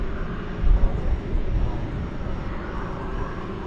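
An American Airlines jet rolls for takeoff on runway 18 left at DFW Airport, a steady broad engine roar heard from a distance at night that swells slightly early on and then holds.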